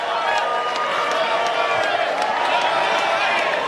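A crowd applauding and cheering in a large hall after a session of an Indonesian presidential debate, a dense steady wash of clapping at moderate distance.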